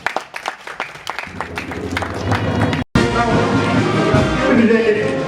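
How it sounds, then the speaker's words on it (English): Crowd clapping at a court building commissioning ceremony, beginning with scattered claps under talk, then swelling into denser applause and crowd noise after a brief cut. "He has done it. Let's clap for him."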